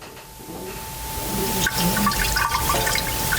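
Liquid pours into a machine while a mango recipe is made at a fresh-food seminar, a steady splashing trickle under a constant tone, growing slightly louder as it fills.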